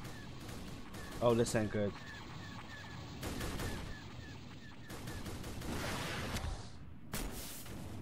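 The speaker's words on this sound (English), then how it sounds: "The helicopters are getting hit with guided missiles." Guided missiles strike helicopters in Garry's Mod, giving loud explosive bursts and crackling impacts separated by quieter stretches, with someone talking briefly over the chaos.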